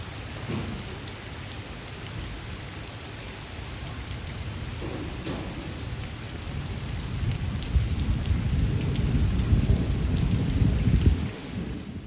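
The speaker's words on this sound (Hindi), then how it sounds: "सुबह से ही ना इतनी अच्छी बारिश हो रही थी, तो मैंने कहा रिकॉर्ड करके आप लोगों को सुनाती हूँ" Heavy monsoon rain pours steadily, a dense broadband hiss that grows louder toward the end, with deep rumbles underneath and no voices.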